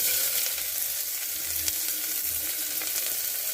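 Mustard seeds and other ingredients fry in hot oil inside a pressure cooker on a wood-fired stove for upma, a loud, steady sizzle with scattered pops, close up and without speech.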